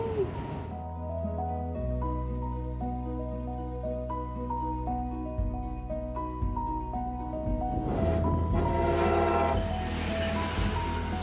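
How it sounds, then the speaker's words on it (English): A loud train horn on a Florida high-speed train sounds in long, sustained chords at an intersection, shifting pitch a few times, before giving way to the hissing rumble of the moving train. "If you hear the horn, it's just us coming up to an intersection"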